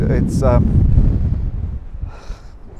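Heavy wind buffeting the microphone with low rumbling gusts at a Snowdonia, Wales campsite, while a person speaks briefly near the start.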